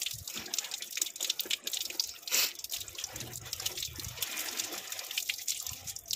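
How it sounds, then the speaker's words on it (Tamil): Running tap water splashes continuously over hands being washed, a steady close hiss and patter without pause. "இப்போ நம்ம கையை வந்து வாஷ் பண்ணுறோம்."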